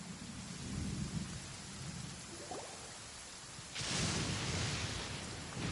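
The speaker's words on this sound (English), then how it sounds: "Paimon hears thunder!" A thunderstorm in the video game Genshin Impact: steady rain hisses while low thunder rumbles roll through, followed by a sudden louder burst of heavier rain and rumbling near the end, with no voices.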